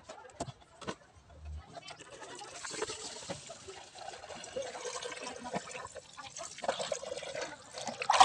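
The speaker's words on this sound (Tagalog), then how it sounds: "ato ang i-drain ang tubig sa atong radiator." Coolant water draining out of a Suzuki F6a multicab radiator during a cooling-system flush, a low, continuous trickle and splash that swells toward the end, with a few clanks near the start.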